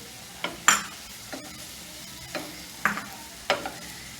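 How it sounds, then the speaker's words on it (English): A jackfruit pizza topping is mixed with coriander, heard as about six separate scraping, stirring strokes over a quiet background. "I'll mix it very well, chef."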